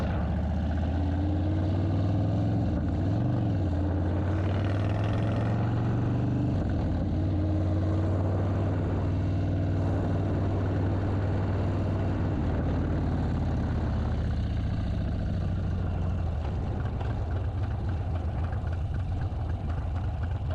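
Car engine running while driving near Dasher, Georgia, a low steady drone with shifting pitch as the revs rise and fall, moderately loud and constant throughout with no talk.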